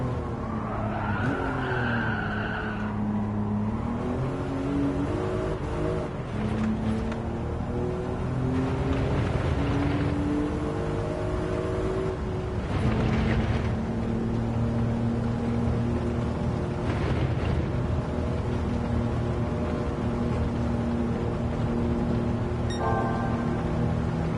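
Car in Gran Turismo 7 brakes hard with long squealing tire skids over a loud engine whine, with several screeching bursts as it slows and shifts across a sustained close-up run.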